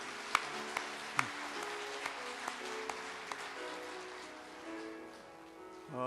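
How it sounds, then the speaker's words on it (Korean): Scattered handclaps ring out in a church during a Christmas service, a few sharp claps at first that thin out and fade beneath lingering sustained tones. "우리의 찬양을 받으신 하나님께 먼저 영광의 박수를 돌리고요."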